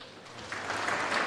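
Brief audience applause at a youth awards ceremony, a dense wash of clapping that swells slightly toward the end.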